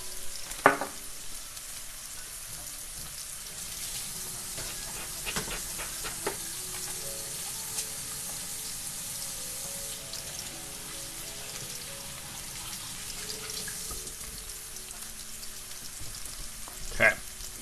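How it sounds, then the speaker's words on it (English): Chili and curry powder frying in a pan, giving a steady soft sizzle with occasional sharp clicks and stirring scrapes throughout, with no talking. "Fry that spice."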